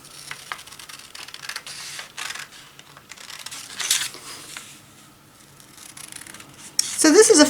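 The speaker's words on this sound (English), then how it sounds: "I'm going to cut out my template." Paper scissors cutting out a paper template for sewing face wipes, giving close, crisp snipping and rustling in irregular bursts, with paper handling noise throughout.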